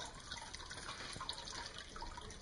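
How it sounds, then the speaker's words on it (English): Gentle continuous trickle and splash of water running through a finished decorative fountain, soft and steady with small drips scattered throughout. "so here's the finished fountain. Come on in, check it out. All detailed out. Running great."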